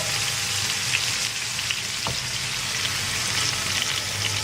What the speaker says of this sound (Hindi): सारे इसमें डाल देती हूँ, एक साथ ही फ्राई कर लेती हूँ।